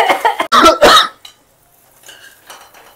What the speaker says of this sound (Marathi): अख्ख्या सोसायटीत खोकलं लागलो आमच्या एवढे मसाले जायलेत.